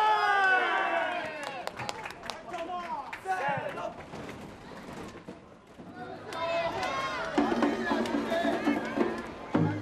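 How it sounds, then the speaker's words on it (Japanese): Spectators at a Japanese town festival where men haul a float, bursts of cheering voices and scattered clapping rising in waves, with shouting and talk mixed throughout. "見物客からは歓声や拍手が沸き起こっておりました"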